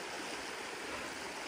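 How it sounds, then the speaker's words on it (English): Water runs steadily through a drained channel past a blockage of sticks, a continuous close, even rushing flow with no voices. "those sticks are stopping the water flow"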